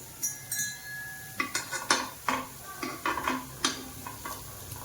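Dahi vadas fry in a pan with a low steady sizzle while a spatula stirs and flips them, giving a series of close scraping clinks and taps over the oil's hiss.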